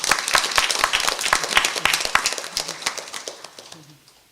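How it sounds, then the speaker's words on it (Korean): A congregation applauds during a Sunday church service, a full and continuous round of clapping that gradually thins out and dies away near the end. "다시 한번 박수 한번 보내주시기 바랍니다."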